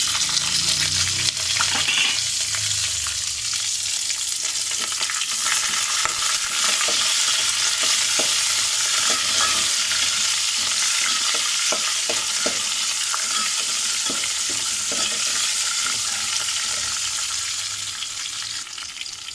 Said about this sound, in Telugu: కొంచెం లైట్ గోల్డ్ కలర్ వచ్చే వరకు ఫ్రై చేసుకుందాం. పచ్చిమిర్చి, కరివేపాకు వేసుకున్నాము.